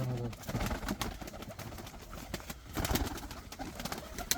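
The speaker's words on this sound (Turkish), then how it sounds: "Allah bereket versin bir sürü kuşum oldu Bülent abi." Pigeons coo softly in a loft or yard among a newly acquired flock of about fifteen birds, with low murmuring calls and rustling across the few seconds amid general ambient noise.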